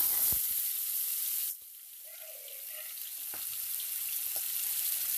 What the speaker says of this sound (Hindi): इसे मैं सारे पीसेस जो है इसमें डाल दूंगी ताकि थोड़े से फ्राई हो जाए